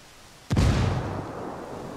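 A frag grenade goes off in the Ghost Recon Wildlands video game, a single loud, close blast with a sharp onset that settles into a deep, rumbling decay.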